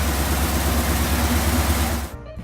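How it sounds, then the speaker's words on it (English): A 1955 Standard 10 car engine with a burnt-out exhaust valve runs rough, a loud uneven idling chug that cuts off abruptly near the end, leaving a brief faint tail. "the engine was started. It ran rough."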